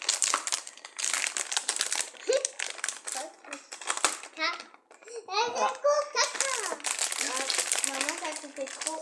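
Plastic candy wrapper with pink, yellow and green sweets being worked open, giving loud, busy crinkling and crumpling close by, with children talking and laughing over it throughout.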